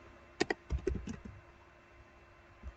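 Keys clack on a computer keyboard as a Linux command is typed, a quick burst of close, sharp taps followed by a pause and a couple of final keystrokes.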